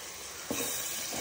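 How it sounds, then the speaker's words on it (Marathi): Ground masala paste sizzles steadily in a hot pan while being sautéed for chicken gravy, with a constant frying hiss and a soft stirring scrape partway through. "आता याच्यामध्ये आपण वाटण देखील टाकणार आहोत. त्याला व्यवस्थित परतून घ्यायचं आहे, एकजीव करायचं त्याला व्यवस्थित."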